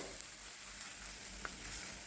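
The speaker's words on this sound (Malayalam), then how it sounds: "ഇഞ്ചിയും പച്ചമുളകും ചെറിയ ഉള്ളിയും കൂടെ നന്നായി വഴട്ടി ഒരു ചെറിയൊരു ബ്രൗൺ കളറാകണം" Ginger, green chillies and shallots sauté in a pan, giving a soft, steady sizzle and low hiss that continues quietly and evenly throughout, with no voices.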